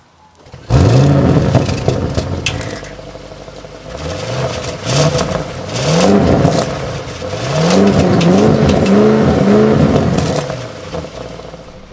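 A 2020 Audi RS7 engine pulls through repeated accelerations out on the road, its rising pitch sweeping up again and again as gears change, loud and close with no talk over it.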